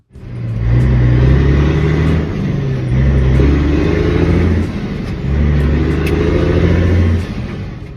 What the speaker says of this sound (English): Number 1. The Caterpillar 3406E.